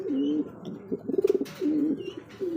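A white king pigeon coos up close in low, rolling, repeated phrases with short pauses between, joined by a brief flutter of wingbeats in the middle.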